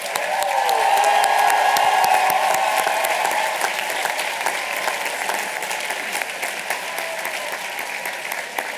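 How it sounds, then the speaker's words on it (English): Loud, dense applause for graduates at a Harvard medical and dental school Class Day ceremony, steady clapping that stays strong throughout with a faint tonal hum underneath early on. "One more round of applause, please, for the graduates of the Peabody Society."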